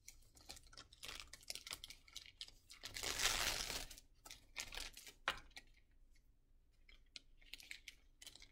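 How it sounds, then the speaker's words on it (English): Crinkly plastic packaging of a catheter being torn open and handled, with quiet scattered crackles and a louder burst of crinkling in the middle, close and alone. "Gotta take my catheter out of the packaging."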